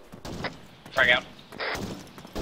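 Gunfire in the military shooter ArmA 3, with several sharp shots in quick succession and one louder burst in the middle, fairly near and mixed with background voices.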